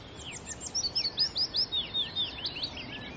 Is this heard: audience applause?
no